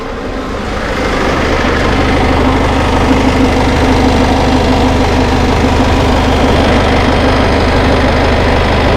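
A Citroen Relay van engine runs steadily, loud and close, with a constant droning hum and no talking over it.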